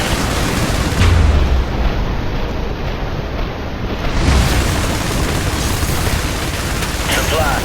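Airstrike explosions in the game IS Defense, set at a harbor, rumble as heavy booms around one and four seconds in, layered over constant wind-like roar and dense battle noise.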